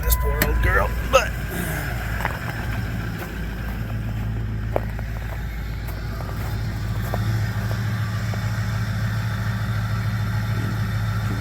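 A Ford 6.0 Powerstroke diesel engine running on used engine oil idles with a steady low rumble after a long crank, up close, with a voice talking over it at the start.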